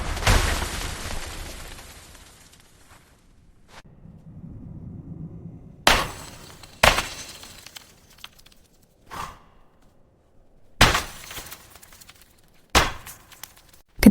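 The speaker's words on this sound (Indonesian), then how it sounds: "Beliau membawa kapak dan menghancurkan semua patung kecil hingga hancur berkeping-keping." Stone statues smashed to pieces with an axe, heard as a series of sharp, loud impacts and cracks spaced irregularly, preceded by a noisy crash, with quieter gaps between blows and no speech.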